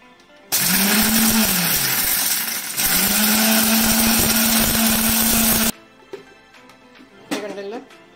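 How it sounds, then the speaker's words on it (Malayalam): A mixer grinder pulverizes roasted garam masala spices with a loud, steady whirring roar that runs about five seconds, dips for a brief moment partway through, then cuts off, leaving a few soft clatters afterward. "മിക്സിയിലിട്ട് നല്ലപോലെ പൊടിച്ച്"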